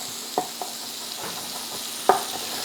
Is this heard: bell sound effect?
no